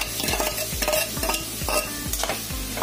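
Grated carrot sautéing in a pan for carrot halwa, a close rhythmic scraping of a stirring spoon repeating about every quarter second over a continuous sizzle.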